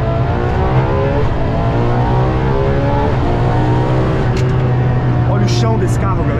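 A Ferrari LaFerrari engine revs hard under full throttle, a loud continuous roar with rising harmonic sweeps as it accelerates, heard from inside the car.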